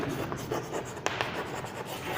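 Chalk or marker scratching across a classroom board for about two seconds, a continuous close scraping stroke with a couple of sharper taps, heard alone without talk.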